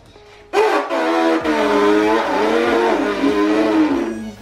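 A voice imitates the engine of a small Peugeot with a modified motor and exhaust, a sudden loud revving drone that rises and wavers in pitch, held for several seconds.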